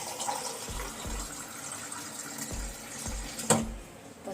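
Water pours from an RO purifier tap into a vessel in a home kitchen, a steady close trickle broken by a few soft knocks, with no voices.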